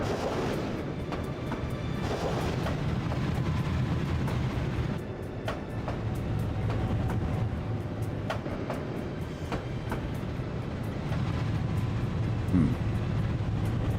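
Simulated freight train in Trainz 19 passing coal cars, a steady rolling rumble with rhythmic clicking of wheels over rail joints, constant and fairly loud.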